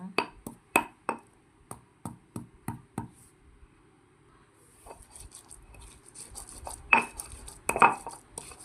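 Kencur, aromatic ginger, is ground by hand in a mortar for peyek batter, a series of sharp close pounding knocks at a steady beat, then quieter scraping and grinding with a few louder strikes.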